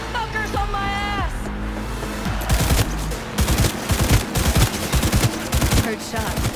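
Gunfire in Cyberpunk 2077, a loud string of rapid shots and sharp impacts following an opening stretch of game sound and voices, with heavy bursts in the second half.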